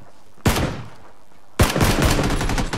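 In PlayerUnknown's Battlegrounds, two sharp close gunshots crack out about a second apart, the second followed by a quick burst of further shots.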